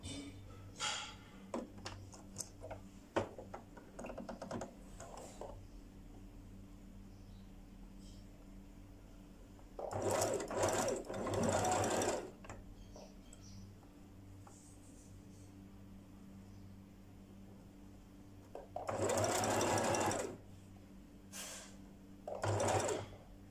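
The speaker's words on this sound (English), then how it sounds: "So now I'm going to use my normal stitches on my machine." A sewing machine runs normal straight stitches while making bias tape, with three separate whirring bursts of a few seconds each between quiet pauses and faint handling sounds.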